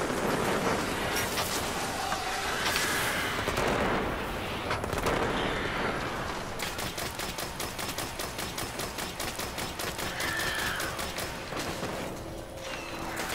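Rapid automatic gunfire from a Destiny strike battle, a dense run of sharp shots firing steadily and loudly for a long stretch amid game noise.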